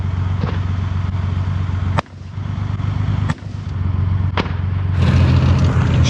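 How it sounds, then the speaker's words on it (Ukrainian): Several sharp booming reports from an infantry fighting vehicle's automatic grenade launcher ring out at intervals over a steady rumbling engine drone, the shots sounding moderately distant, at a military training ground. "Щойно БМП стріляла з автоматичного гранатомета."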